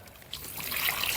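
Collected rainwater trickles and pours onto a garden plant in a brief, steady stream that grows a little louder as it goes, with no talking.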